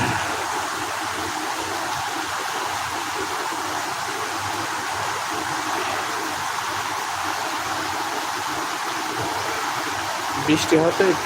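Steady rain falls, a dense, even broadband hiss with no breaks, moderately loud, with a short burst of knocking near the end.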